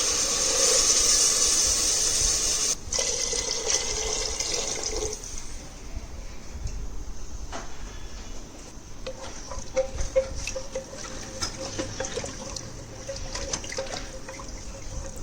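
A steady rush of water pouring into a pot of rice for tomato kuska, loud at first, then settling into softer trickling and bubbling with occasional clinks.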